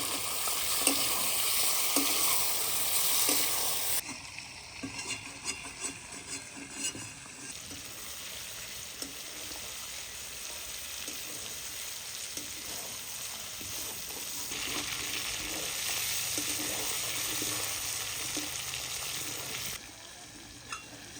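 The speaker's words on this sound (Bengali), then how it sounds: "মাংসটা ভাজা ভাজা করে নিয়েছি" Meat frying in a pan for a spicy Bengali dish gives a steady sizzling hiss with a brief louder burst near the start, then continuous stirring scrapes and clinks at a moderate, fairly close level.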